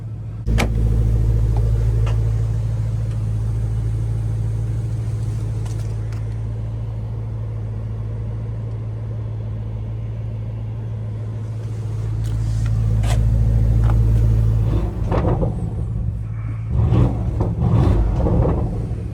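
A new 2025 730 hp Porsche Cayenne Turbo E-Hybrid coupe engine idles with a steady low rumble, swelling slightly louder at times, with a few small clicks and knocks near the end.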